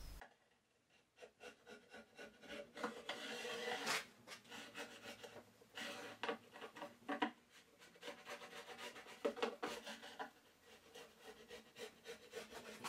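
Hand tools such as a chisel and knife scrape along a housing cut into a wooden board clamped in a vise, with repeated rasping strokes, close and rhythmic, some passes louder than others.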